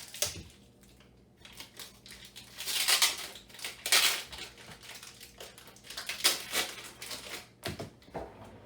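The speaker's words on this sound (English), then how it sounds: "We are going to use our microplane grater to cut the cheese." Cheese is grated on a Pampered Chef microplane grater in a kitchen, producing uneven bursts of scratchy rasping strokes with small taps between them, close and moderately quiet.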